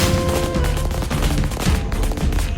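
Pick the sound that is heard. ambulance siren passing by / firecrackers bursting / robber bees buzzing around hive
firecrackers bursting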